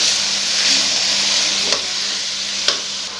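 Spices frying with onions in a hot pan give a steady, close sizzle and hiss, with a couple of faint utensil clicks and no voices.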